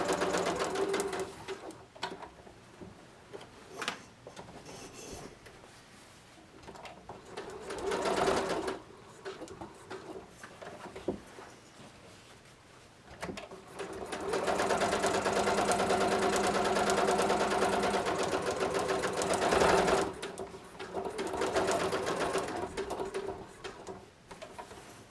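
A sewing machine quilts the front panel of a vest, its motor running in steady bursts with short pauses between stitched lines and a longer sustained run in the middle, loud and close with no talking.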